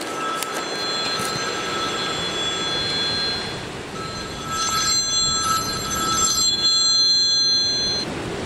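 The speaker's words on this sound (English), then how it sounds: "Oh, and there's a phone call." A mobile phone rings with an incoming call outdoors in gusty wind, its repeating electronic ringtone tones sounding clearly over a constant rushing background.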